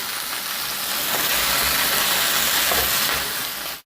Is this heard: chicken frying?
yes